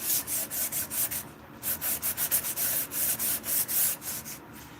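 Oak wood being sanded by hand with sandpaper: steady back-and-forth rasping strokes in a regular rhythm, close and fairly loud, with a couple of brief pauses and no talk.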